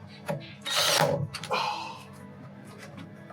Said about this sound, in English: God, I love that nail gun.